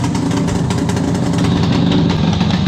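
A warmed-up 1976 Suzuki GT750 motorcycle, its choke off, idles close by on its own with a loud, steady, slightly uneven two-stroke burble and no voices.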